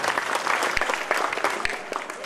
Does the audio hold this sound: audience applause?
yes